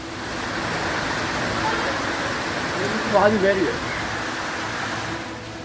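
Floodwater surges through city streets in Jodhpur, deep enough to sweep cars along, heard as a steady broadband rushing roar with a brief louder swell partway through.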